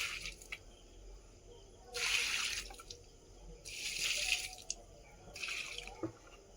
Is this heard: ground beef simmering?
no